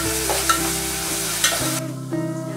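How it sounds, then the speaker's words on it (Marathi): Coriander, ginger and garlic paste stirred into chicken frying in a pan for a spicy rassa, with a steady sizzle and scraping stirs close up, no voices. "यामध्ये आपण कोथिंबीर, अद्रक आणि लसूण ते जे मिश्रण होतं ते टाकून घेतलेलं आहे आणि हे पण चांगलं मिक्स करून घ्यायचं"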